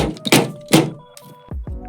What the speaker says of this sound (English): I mean, I'm banging it against this table.